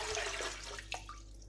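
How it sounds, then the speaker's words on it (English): Water pours and splashes into a pan to cover rice for boiling, a short, close, steady rush with a small splash near the end. "So I'm just going to put in half a pan of water."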